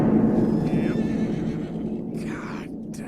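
A horse in Red Dead Redemption 2 gives a neigh over steady background noise, followed by a couple of brief higher whinny-like bursts near the end.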